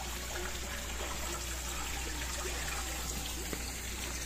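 Water runs steadily from an outdoor shower at a quiet resort in Tanay, Rizal, a continuous even hiss with no break and no talking.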